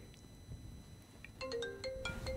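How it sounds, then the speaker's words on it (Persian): A telephone ringtone starts partway in: a bright electronic melody of quick repeated tones over a low background rumble, moderately loud in an indoor studio setting. "چون این تلفن داره اذیت میکنه، من اینو خاموشش کنم"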